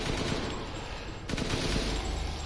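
Rapid gunfire from a player shooting at moving arms in the video game Resident Evil Village, a dense continuous barrage of shots with a brief break midway, loud and steady throughout.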